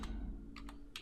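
A few quick keystrokes on a computer keyboard, three or four light taps close to the microphone over a low background hum.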